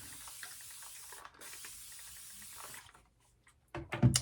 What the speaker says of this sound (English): Just have water in the spritzer there.